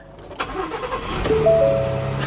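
A 2021 Ford F150 pickup, pulled from a salvage auction, cranks briefly with a few sharp starter clicks, then catches and settles into a steady, close idle with a low hum.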